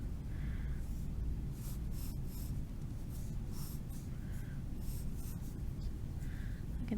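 A pencil scratches steadily across paper while an anime-style head is drawn, a close, quiet, continuous stroking with short pauses and no talk.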